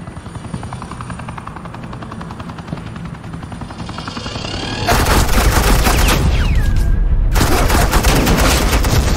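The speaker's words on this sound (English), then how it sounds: "Suppressing fire." In the Batman Telltale video game, a helicopter's steady rotor drone runs throughout, then loud, dense suppressing gunfire erupts halfway through and continues as a sustained rattling barrage.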